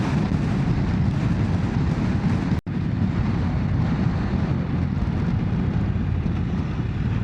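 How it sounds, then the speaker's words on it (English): Strong, blustery wind on Gran Canaria roars as steady, dense broadband buffeting across an outdoor microphone, loud and unbroken except for one brief dropout. "It's really windy at the moment, so you probably can hear it quite blustery."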